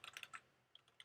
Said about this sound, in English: So if I type some letters,